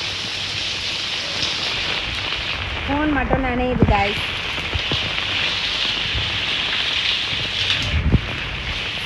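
Rain pattering on an umbrella held outdoors in windy weather, a dense steady hiss close by, with a person talking briefly and a few knocks.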